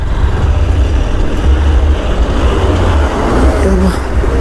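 A Honda CB200X motorcycle rides at night, its engine and wind rumbling loud and steady up close, with a voice talking briefly over it.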